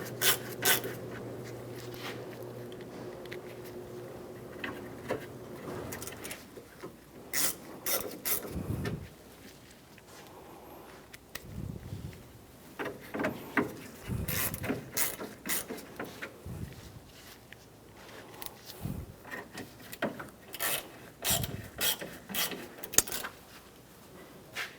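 Screws being tightened while refitting a headlight on a 1997-2001 Honda CR-V, heard as close bursts of ratcheting, clicking and scraping with quieter pauses between them, no talk.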